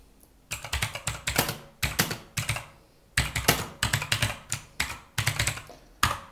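SQL code being typed on a computer keyboard: quick clusters of crisp, close keystrokes come in bursts of several taps, broken by short pauses, with no talk.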